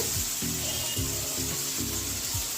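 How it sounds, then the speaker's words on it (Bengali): Spice paste for an egg curry is sautéed and scraped around a pan, a close rhythmic rubbing with low thumps repeating about twice a second over a constant bright sizzle. "মশলাটা কষা হবে, ভালো করে কষিয়ে"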